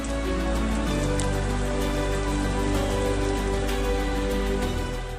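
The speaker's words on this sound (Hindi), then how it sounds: "गर्मी और उमस से आजादी मिली तो बरसात का एहसास भी ये बौछारें खूब दे रही हैं" Heavy monsoon rain showers over Delhi and its surroundings, a steady dense hiss of falling rain throughout, loud and continuous with a low rumbling background.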